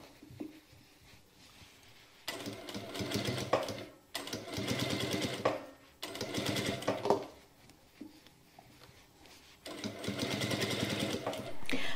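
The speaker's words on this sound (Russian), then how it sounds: "Срезы поворачиваю на обтачку и на расстоянии 1 мм от сгиба прокладываю строчку." A sewing machine stitches a line along the facing of a warm lined jacket in several loud, steady bursts of running, with short pauses between them, close up and alone.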